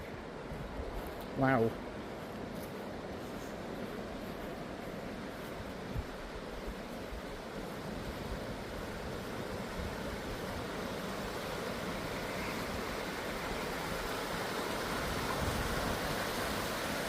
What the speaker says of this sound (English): See what the river's like then.